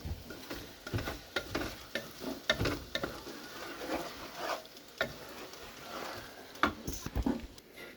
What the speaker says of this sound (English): keep stirring it. Make sure nothing sticks to the bottom there